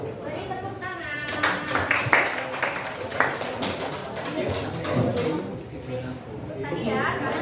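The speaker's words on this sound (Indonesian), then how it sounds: "Beri tepuk tangan." Classmates in a school classroom break into a short burst of clapping, with children's voices chattering over and around it before the talk resumes.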